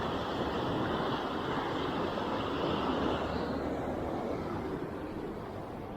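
The Quantic River flows steadily in autumn, heard as a continuous broad rush of water that stays even and fairly loud throughout, with some wind on the microphone and no speech.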